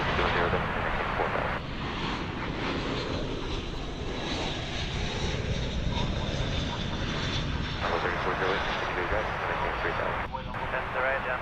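Spirit Airlines Airbus A321 on arrival at DFW airport, a loud, steady jet engine roar filling the whole stretch with broadband rumble, heard under occasional talk.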